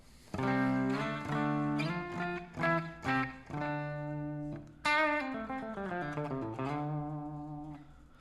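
An Enya electric guitar on its clean setting plays an undistorted melodic phrase with ringing single notes and sustained chords, faint reverb tail, no voices.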